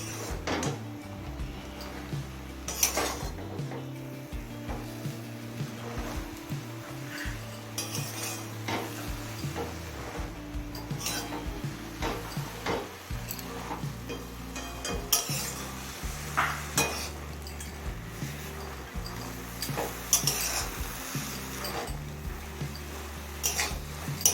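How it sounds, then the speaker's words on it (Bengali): A spoon stirs taro leaves cooking in a pan, with irregular scraping and clinking against the metal at close range, soft sizzling underneath and no talk. "এবার এই শাকটা একটু নেড়ে নেবো"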